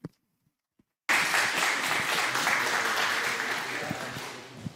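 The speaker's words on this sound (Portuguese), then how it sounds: "E palmas." Audience applause at a Brazilian quantum-physics event, bursting in suddenly after a second of near silence and holding as sustained, dense clapping from a sizable crowd, easing slightly toward the end.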